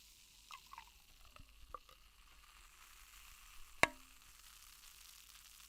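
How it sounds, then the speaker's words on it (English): Soft, continuous fizzing of a Dr Pepper vanilla float, punctuated by a few light taps and one sharp clink near the end. "Can you actually hear that sizzle?"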